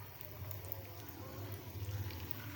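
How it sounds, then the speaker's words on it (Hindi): Potato sticks with cheese frying in hot oil, a faint, steady low bubbling and soft sizzle with occasional small pops, heard alone without talk. "अब जो हमने दूसरी तरह स्टिक बनाई थी ये वाली, हम इनको फ्राई कर लेते हैं"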